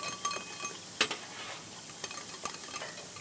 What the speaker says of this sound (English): Give that a good whisk until the sugar is all dissolved.